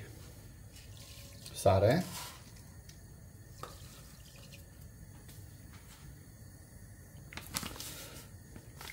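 Water poured from a container into a cast-iron pot with a drop of oil, making polenta in a home kitchen; a short, loud splashing pour near the start, then quiet kitchen background with brief speech.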